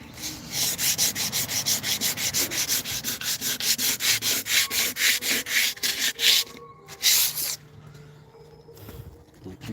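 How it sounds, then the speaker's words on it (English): Hand sanding of primer on a surface, with steady back-and-forth rasping strokes in a quick, even rhythm that stops abruptly near the end, close and fairly loud. "you can sand the primer down too, filling in imperfections and such"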